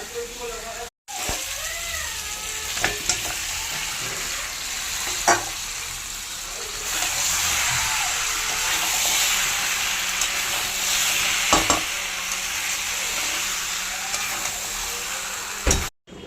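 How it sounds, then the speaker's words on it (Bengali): Half-boiled potatoes fry in a spice masala as they are stirred, with a loud, continuous close-up sizzle and occasional sharp utensil clicks against the pan, and a voice speaking briefly near the start. "এই মশলা কষানোর মধ্যে আলুগুলো দিয়ে দেবো"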